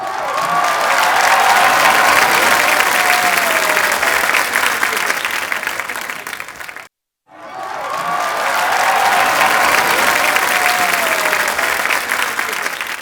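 A studio audience on a comedy talk show claps loudly to welcome the actor Shakti Kapoor, with a dense, sustained wall of applause and some cheering that cuts off briefly midway and then swells back just as full.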